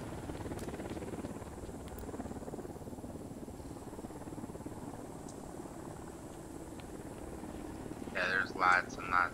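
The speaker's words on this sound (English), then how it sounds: "There's multiple choppers in the air right now" Several helicopters in the Ghost Recon Wildlands game keep up a steady rotor drone for the whole stretch, with a voice breaking in briefly near the end.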